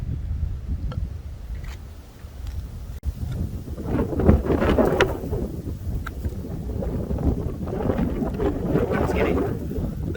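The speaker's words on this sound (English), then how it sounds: "The wind's getting really bad." Strong gusting wind buffets the microphone outdoors at a bushcraft camp, a steady loud roar that surges and swells throughout without any clear speech.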